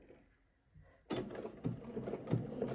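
A sewing machine stitching bodice fabric starts up after a near-silent moment, then runs in a close, quick mechanical whirr with rhythmic clatter for the rest of the clip.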